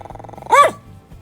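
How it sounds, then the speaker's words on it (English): A pet dog lets out one short, loud bark, close by, over a low background hum. "that's my dog Ralphie who always barks at him"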